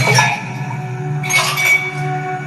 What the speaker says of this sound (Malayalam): അതിലേക്കൊരു ഐസ് ക്യൂബ് ഇടുക.